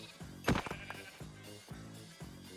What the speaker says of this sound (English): Yes, I know I just killed a sheep baby.